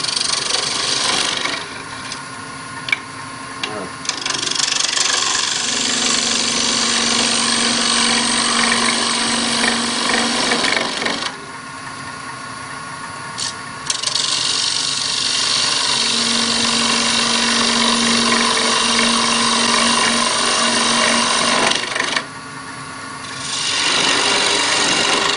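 A wood lathe spins at 1400 rpm while a coffee scoop is turned, its steady loud motor hum broken by long stretches of rough, scraping tool cuts that fade in and out.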